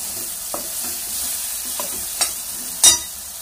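Fenugreek and spinach stir-frying together in a pan, a continuous close sizzle punctuated by several spatula scrapes and taps, the last one the loudest.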